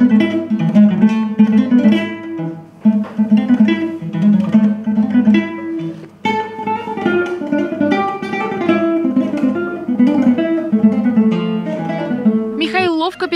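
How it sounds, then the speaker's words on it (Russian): A classical guitar plays Paganini's 27th caprice in a music school, a fast, busy flow of plucked notes across the strings, close and clear, running unbroken throughout. "И 27-й каприз звучит так, будто он и задумывался скрипачом Никола Паганини для исполнения на гитаре."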